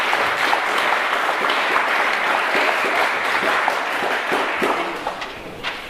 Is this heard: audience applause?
yes